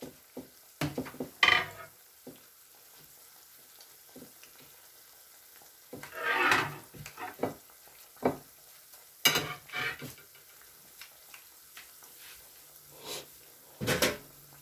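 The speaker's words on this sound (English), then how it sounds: "I just want it to cook properly while it's frying" Bursts of sizzling and crackling oil as akara bean fritters fry, rising and fading irregularly, mixed with scattered clinks and scrapes of kitchen utensils.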